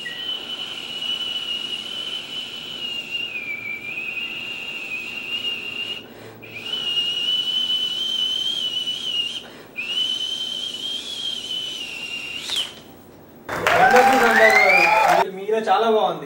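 A person whistles long, steady high tones imitating a Prestige pressure cooker's third whistle, with brief pauses between them, on a comedy show stage, then ends in a burst of applause and crowd cheering.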